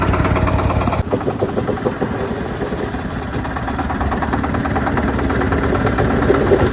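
Shifeng 240 mini tractor engine running steadily while driving, a continuous close mechanical drone with fairly even loudness throughout and no talking.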